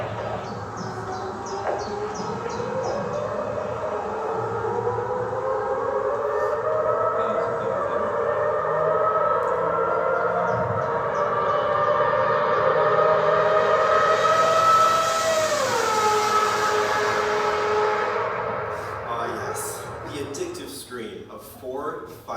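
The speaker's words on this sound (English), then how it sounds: "what you just heard is the sound of the Mazda 787B, a Group C endurance car that features something called a rotary engine" A Mazda 787B Group C endurance race car with a rotary engine screams past at high revs, its sustained shrill harmonic tone rising and shifting pitch and then dropping sharply as it passes and fades, with a crowd murmuring underneath.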